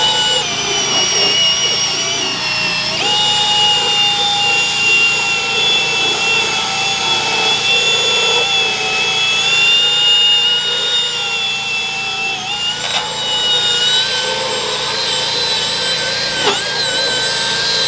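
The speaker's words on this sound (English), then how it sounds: "I'm using a very soft drill brush attachment" A power drill with a soft brush attachment whirs steadily, its high-pitched motor whine shifting in pitch as it scrubs caravan seats, continuous and close, with no talking.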